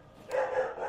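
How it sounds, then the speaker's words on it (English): A dog barks in the survival horror game Resident Evil 2, giving one short muffled bark that rises out of a low background hum and then fades. "Fucking dogs are barking at, man"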